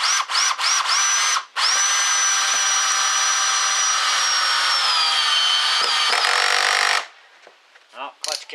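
A Ridgid cordless drill drives a large screw into wood, a loud steady whine with several short bursts at first, then a long continuous run that bogs slightly before the clutch stops it; brief noises follow.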